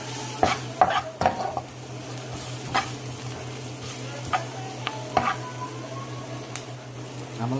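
Flour browning with onions and peppers in a pan for smothered chicken gravy, a steady low sizzle with repeated stirring scrapes and a few utensil clicks against the pot.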